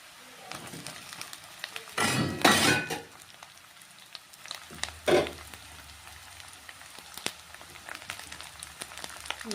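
Chowmein with cabbage and carrot fries in a pan, with two sharp sizzling bursts as the food hits the hot oil, plus light clinks of utensils against the pan and a quieter hiss in between.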